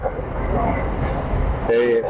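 A Kollam–Ernakulam MEMU commuter train on its first run rumbles steadily close by, then sounds a loud tonal horn toot in the final half-second.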